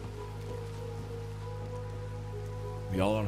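Rain falls in the RedM Western roleplay game as a steady, even hiss with a low ambient hum, and a voice speaks briefly near the end.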